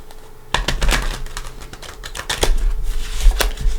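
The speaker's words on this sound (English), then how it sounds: "So let's give it a couple shuffles first." A Light Seers tarot deck is riffled and shuffled by hand, producing rapid, crisp card flicks and snaps in uneven bursts, close and clear with no talking.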